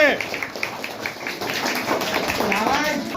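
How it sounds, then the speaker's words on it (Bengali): Children and adults at a primary school quiz event clap in a brief, uneven burst of applause mixed with voices and chatter nearby. "হাততালি। হাততালি।"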